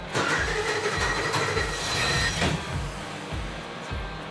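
An AMC 401 V8 racing engine on a stand in a hot rod garage, held at full throttle in a loud, continuous, rough roar with slight rises and falls.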